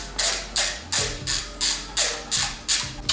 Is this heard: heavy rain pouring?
no